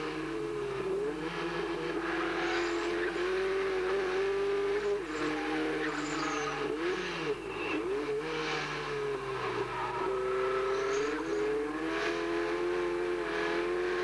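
A production car racing championship heard from onboard at the circuit in 1988, with a loud, continuous engine drone rising and falling through the gears and occasional tyre squeal as the cars run close together.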